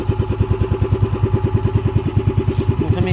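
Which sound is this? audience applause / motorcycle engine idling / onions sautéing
motorcycle engine idling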